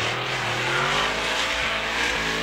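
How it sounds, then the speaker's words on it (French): BMW and Subaru race cars driving hard in a drift final at Albi, a loud, close engine roar with steady high revs and tire noise filling the whole moment. "leader contre Nicolas Jouard, la BMW contre la Subaru."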